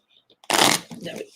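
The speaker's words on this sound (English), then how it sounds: "These ones are not shuffling quite as easily as the others, but that could just be because they're new." New oracle deck cards being shuffled by hand, close by. After a short pause comes a loud riffling burst, followed by a softer second round of shuffling.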